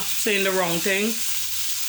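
A steady sizzle of vegetables frying in a pan, with a person speaking briefly over it before the hiss continues alone.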